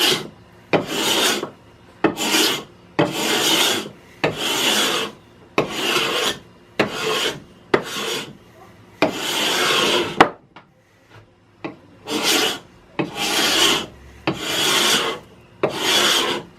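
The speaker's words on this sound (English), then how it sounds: "using this cabinet scraper, and that'll clean up the glue and make sure that all the surface is level together" A cabinet scraper scrapes dried glue off the wood of an antique Stanley No 5 level, making about a dozen close, loud rasping strokes in a steady rhythm, with a brief pause partway through.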